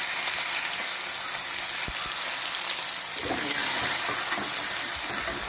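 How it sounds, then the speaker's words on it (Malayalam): Onions frying in a pan heated hard, a steady broadband sizzle running throughout with a brief stir or scrape midway, close and fairly loud with no talk. "ഉള്ളി നല്ലോണം ഒന്ന് പൊരിയട്ടെ"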